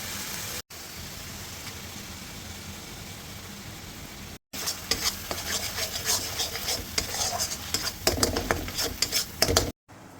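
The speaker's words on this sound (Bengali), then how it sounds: "তারপরে কাজু বাদাম আর চাল মগজের পেস্টটা এখানে দিয়ে দেবো" Cashew and melon seed paste goes into hot oil in a kadai for capsicum paneer, giving a loud, steady sizzle with stirring scrapes and utensil clinks.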